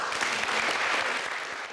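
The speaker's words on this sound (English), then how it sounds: "Give Rachel a big clap." Pupils and staff in a British school applaud Rachel, a maths enthusiast, with a full, even burst of clapping from a sizeable group, heard alone.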